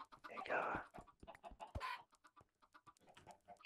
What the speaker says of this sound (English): I heard you hit my chicken